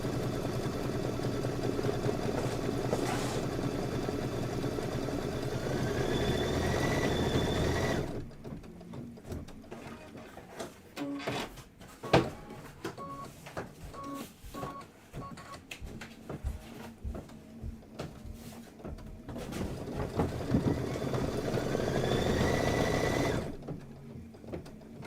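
A sewing machine runs in steady long whirring stretches while stitching quilted table topper blocks, with a quieter break of clicks and handling noises between runs.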